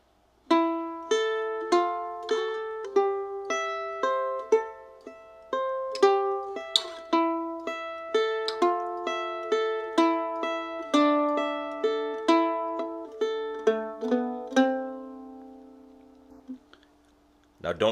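An acoustic guitar cross-picks the opening of Wildwood Flower at a slow, even pace, each plucked note ringing clearly and alone with a steady rolling rhythm until the phrase settles on a final sustained note.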